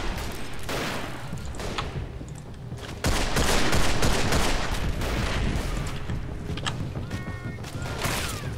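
Rifle fire in the Verdun 1914-1918 trench warfare video game, with a continuous dense barrage of gunshots, machine-gun bursts and distant artillery rumbling together as a loud, unbroken battlefield roar.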